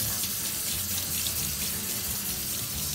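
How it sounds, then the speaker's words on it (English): Cold water running from a tap into a sink during a haircut, a steady close rushing splash that fills the whole moment without pause. "Colder water now."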